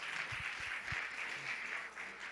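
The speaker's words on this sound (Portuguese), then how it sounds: "Você quer aplaudir a Jesus? Aplaude." An audience claps together in a soft, even wash of applause that stays faint and steady for a couple of seconds, with no voices over it.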